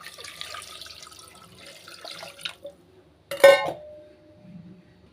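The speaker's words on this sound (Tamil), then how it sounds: "கறி வேகிற அளவுக்கு தண்ணி சேர்த்துக்கிறேன்" Water splashes and trickles into a pot of meat curry for a couple of seconds, then stops, followed by a brief clatter and faint kitchen noise.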